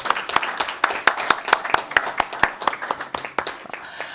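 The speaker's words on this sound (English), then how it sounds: "can we give our staff just a quick round of applause?" A short round of applause at a state Senate committee hearing, a modest group clapping in irregular sharp claps for several seconds, thinning out toward the end.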